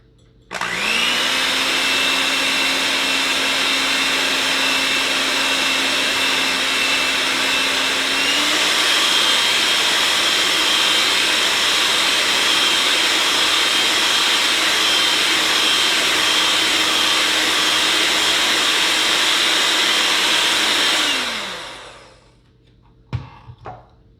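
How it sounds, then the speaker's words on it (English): An electric mixer beats muffin batter for pecan pie muffins, a loud, continuous motor whine that holds steady for about twenty seconds, steps up slightly in speed partway through, then winds down, followed by a couple of light knocks. "I'm going to go ahead and use my mixer for that. And we're going to start mixing."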